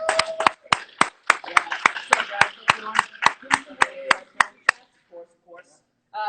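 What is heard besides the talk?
audience applause and clapping for guest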